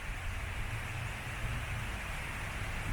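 Steady rain with gusting wind at the open railway station platform in Wodonga, Victoria, a constant broadband hiss with low rumbling buffets throughout and no other distinct sounds.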